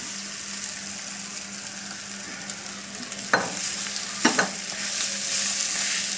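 Boiled, mashed potatoes stirred and fried in a pan with spices for samosa filling: a continuous close sizzle broken by two or three sharp spoon scrapes, with a low steady hum beneath.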